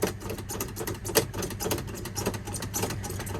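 A cold vehicle engine cranks in the snow with a fast, uneven mechanical chatter that runs continuously, close and loud, with no voices.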